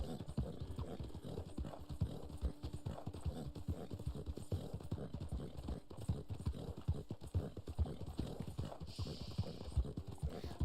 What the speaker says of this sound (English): This is a black Arabian horse.